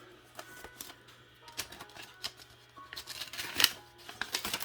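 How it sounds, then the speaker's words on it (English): Envelopes from a stored stamp collection being opened and the stamps handled: faint, close paper rustling and crinkling in irregular small bursts. "I'm opening up these envelopes"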